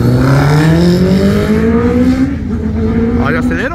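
Honda Fan motorcycle engine revving hard and accelerating on the street, a loud, steady rising whine climbing in pitch, with voices talking over it.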